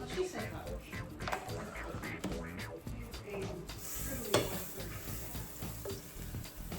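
A knob of butter melting and browning in a hot pan gives a faint, steady sizzle under close, continuous talking.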